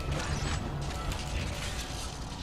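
Mechanical door opening in the sci-fi horror game Dead Space, a dense grinding, creaking machinery rumble with ratchety clanks, steady and loud for a couple of seconds.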